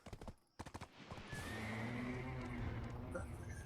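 A horse in the Black Desert video game gives a loud whinny over clip-clop hoof sounds, with sharp percussive clatter at the start and a sustained neigh filling the rest.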